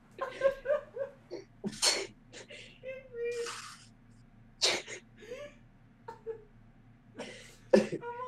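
A person sneezes sharply into a close microphone during a gaming session, followed by coughing, gasps and whimpering sounds, with bursts of speech in between.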